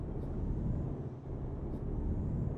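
A Volvo truck in Euro Truck Simulator pulls away, its engine a steady, low droning hum with brief soft hisses, running alone without talk.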